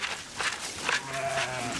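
Sheep on a homestead bleat close by, a few overlapping wavering calls in under two seconds, the last one drawn out and clear.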